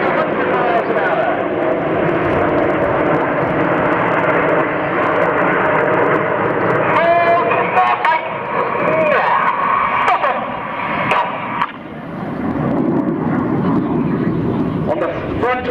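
Red Arrows jets flying inverted at an airshow, heard as a loud, sustained roar that drifts in pitch as the aircraft pass, with an announcer talking over it.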